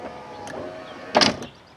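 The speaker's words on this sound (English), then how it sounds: "if I put the window up and down, you'll hear it clicking" A loose side window glass on a Ford Expedition passenger door shows a faint electric motor whir, then a short, louder burst of clicking and rattling near the end, heard up close inside the car with no talking.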